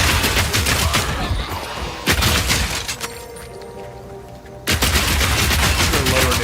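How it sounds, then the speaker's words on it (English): Rapid bursts of gunfire in the online fantasy game Albion Online, loud dense volleys opening and closing the stretch with a quieter lull between, no talking. "They're lower damage rounds that we're firing, but they're rapid fire"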